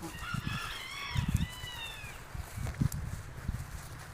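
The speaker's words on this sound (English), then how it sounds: "look at the chickens quick and see what's going on there" Several chickens cluck and squawk nearby on a farm in fall, with bursts of noisy calls over a faint outdoor background.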